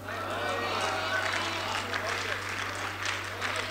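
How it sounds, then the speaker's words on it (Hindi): Audience applause at a mushaira poetry gathering in Hyderabad, a steady broadband wash of clapping from a crowd that holds even and fairly subdued throughout, with a constant low electrical hum underneath. "तालियां बहुत कमज़ोर थी आपकी"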